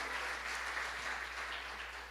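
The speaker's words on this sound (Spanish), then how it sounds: "Damos un aplauso al Señor por la bendición de Dios, de lo que está haciendo." A church congregation applauds the Lord during a Sunday worship service, a steady, even burst of clapping filling the brief moment without any voices over it.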